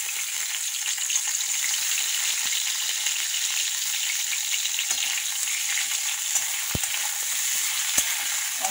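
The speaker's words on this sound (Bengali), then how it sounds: "এই পটলগুলো আগে একটু ভেজে নেব" Pointed gourd (potol) frying in oil in a kadai, a loud, steady, hissing sizzle throughout with a few brief clicks and no voices.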